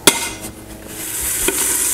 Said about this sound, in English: I'm gonna go ahead and add the onions to the hot olive oil